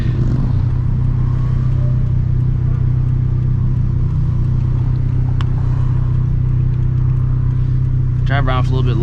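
A turbocharged stock-motor Toyota FRS tuned past 350 hp drones loudly from inside the cabin while driving, a deep steady engine rumble, with a voice briefly near the end.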